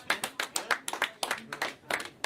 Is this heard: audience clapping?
yes